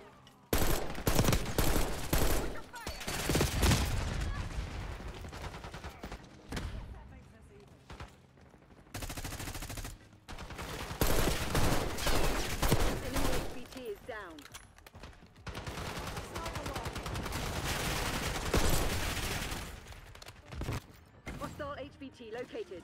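Gunfire in a video game, long stretches of rapid automatic bursts and heavy shots, loud and close, broken by brief pauses, with game radio voices talking at times.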